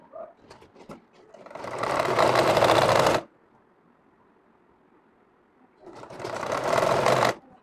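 A sewing machine stitches a frock in two long steady runs, the first about one and a half seconds long, then a quiet pause before the second; close and loud, with no talk.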